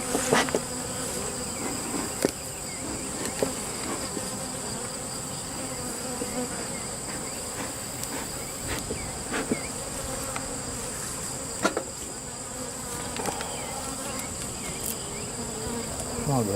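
Honey bees buzz steadily around an open hive during an inspection, a dense close drone with occasional sharp clicks and knocks of frames being handled.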